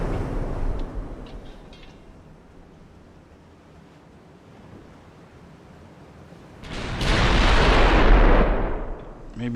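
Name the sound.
naval guns firing in video game Ultimate Admiral: Dreadnoughts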